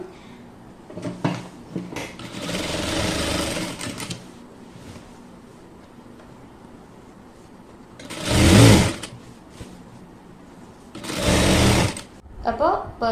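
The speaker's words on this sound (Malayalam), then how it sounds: "ഇനി നൈറ്റിയുടെ ഏറ്റവും താഴത്തെ സൈഡ് അര ഇഞ്ച് പ്ലസ് അര ഇഞ്ച് മടക്കിയിട്ട് സ്റ്റിച്ച് ചെയ്തെടുക്കാം" A sewing machine stitches the folded hem of a nightie in three loud whirring bursts, the first longest and the others a second or so each, separated by quieter pauses with a person talking.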